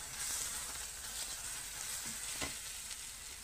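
Ginger garlic paste and green chillies frying in hot oil for fish curry, a steady soft sizzle with a light stirring scrape and a few faint clicks, fairly quiet and close.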